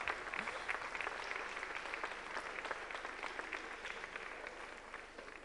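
A hall audience at an international guitar festival applauds the performers of Educarte Trando with dense, steady clapping. The applause holds at a moderate level for several seconds, then eases slightly at the close, with no voices on top.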